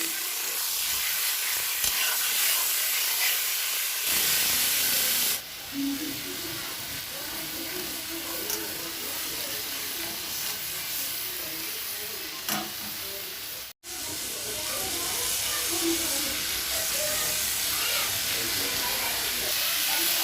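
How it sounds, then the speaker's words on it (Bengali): Prawns fry lightly in a wok, giving a loud, continuous sizzle and hiss of hot oil that carries through the whole stretch, with brief dips as the pan is stirred. "চিংড়ি মাছটাকে আমি দিয়ে দিব কড়াইতে। হালকা ফ্রাই করব।"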